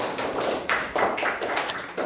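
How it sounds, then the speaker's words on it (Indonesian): A class of students clapping for a classmate named Wina after she solves a math problem, a few bursts of hand claps in a classroom, moderately loud and close. "tepuk tangan untuk Wina"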